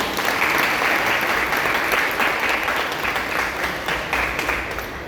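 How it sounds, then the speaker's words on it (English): An ISKCON Toronto audience applauding a speaker at a lecture, a loud, dense and continuous round of clapping that holds steady across the whole stretch with a faint undertone of crowd noise. "We can give her a round of applause"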